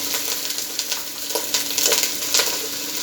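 Browned garlic sizzles in a pan as water is added for a spinach pakora curry, a close, crackling hiss with scattered sharp pops and spits over several seconds.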